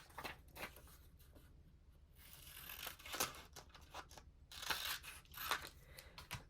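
Scissors snip through a paper picture for a scrap junk journal page in a few faint, close, irregular cuts with light paper rustling between them.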